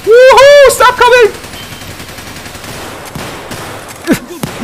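The T7 gun fires in a video game as a faint, rapid patter of shots behind an excited shouting voice at the start, continuing quietly in scattered bursts.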